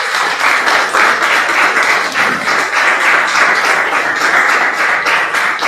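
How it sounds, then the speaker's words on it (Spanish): A church congregation claps loudly and steadily in unison, a close, rhythmic beat of many hands sustained the whole time with no voices heard. "Unas palmas al Señor, hermano."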